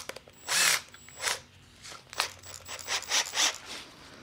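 A Milwaukee step drill bit cuts holes in a metal burn barrel, giving a series of short grinding, rasping bursts of uneven length with brief gaps between them, fairly faint and with no talking.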